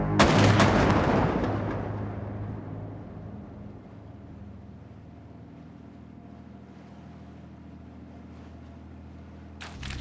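A firing squad's rifle volley at an execution aboard the German battleship Tirpitz: one loud, booming burst at the start that rolls into a long rumbling decay over a steady low hum, with another sharp crack near the end.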